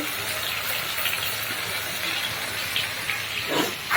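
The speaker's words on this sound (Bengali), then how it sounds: "আমি এখন মাছ রান্নার জন্য মাছটা ভাজি করে নিচ্ছি" Fish frying in oil hisses steadily up close with a watery, steam-like texture, swelling louder near the end.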